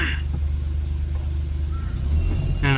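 Slow, congested road traffic on the Kullu-Manali highway in the Manali area: a heavy, steady low engine rumble from nearby vehicles, with a brief brighter burst of noise at the end.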